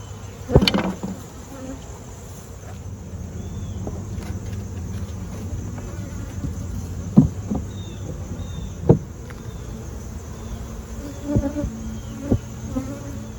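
Honey bees buzz around an open, honey-filled hive during a feeding check, a continuous close drone with individual bees zipping past the microphone and a few sharp knocks and taps from the hive work.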